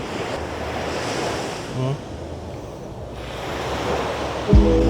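Ocean surf washing onto a beachfront at Baler, a steady roar of breaking waves with wind buffeting the microphone, a brief thump near the end.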